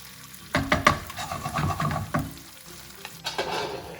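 Chili garlic paste being stirred in a frying pan for a spicy garlic tomato pasta: a soft sizzle under several distinct scraping and clattering stirs, close, in uneven bursts with a brief lull before the last.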